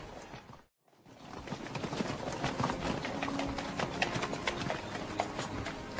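Hooves clip-clop steadily on hard ground after a brief silent gap, a busy, continuous patter of several horses moving at a walk, fairly close.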